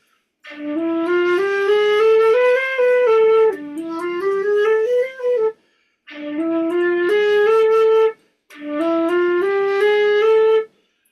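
A solo saxophone plays a melodic phrase in a minor mode including the fourth, split into four sustained, gently bending passages with brief pauses between them.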